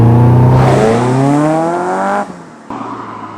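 A Caterham track car on 13-inch Avon CR500 tyres driven hard, its loud engine climbing in a rising howl, then dropping abruptly as the throttle lifts before picking up again, heard up close.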